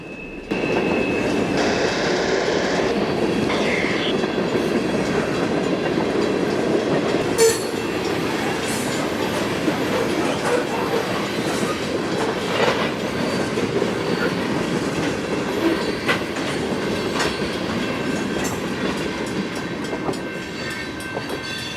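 A train rumbles past a level crossing steadily and loudly, wheels clacking over joints, with a brief high tone early and occasional metallic clanks along the way.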